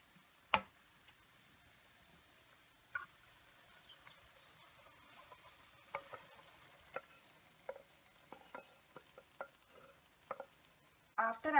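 Pasta sauce is being stirred in a pan, making a quiet series of scattered clicks and scrapes of a spoon against the pan over a faint sizzle, with a sharper clatter at the end.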